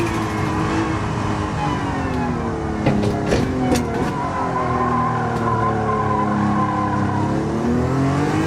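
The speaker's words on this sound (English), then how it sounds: "You hear how much traction loss there is just going into basic like corners and stuff?" Racing car engine roars steadily in the video game Gran Turismo 7 while tires squeal and skid, losing traction through corners, continuous and loud with shifting engine pitch.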